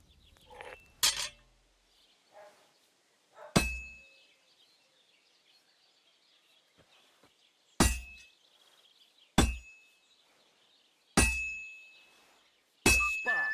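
Hot metal is hammered on an anvil in the video game Kingdom Come Deliverance II, ringing clangs struck one by one with long gaps between them, each hit leaving a bright metallic ring that fades into quiet.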